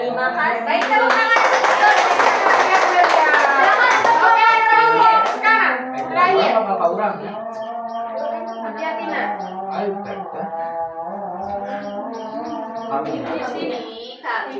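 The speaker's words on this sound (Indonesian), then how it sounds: "Baik, tepuk tangan." Primary school children clapping in a classroom after a group presentation, a burst of hand claps in the first few seconds that fades as a voice and other chatter take over.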